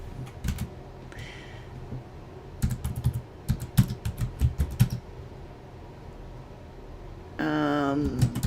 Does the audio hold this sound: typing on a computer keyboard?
yes